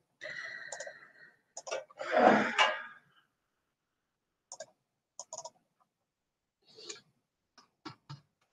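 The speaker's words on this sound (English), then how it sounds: "I'm going to try typing that." Sparse, faint clicks of typing on a computer keyboard in a quiet room, in small scattered bursts after an opening breath or sigh.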